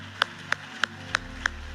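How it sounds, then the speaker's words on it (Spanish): A church congregation gives a round of praise with five crisp, evenly spaced claps, steady and moderately loud, with no voices between them. "Denle ese aplauso al Señor, por favor."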